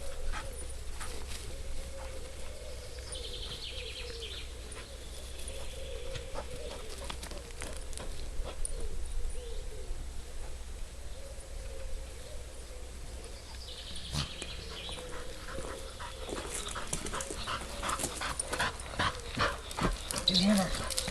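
Female dog panting and whimpering during a search exercise outdoors, soft breathy panting with occasional faint whines, heard at moderate distance under someone talking and some background bird calls.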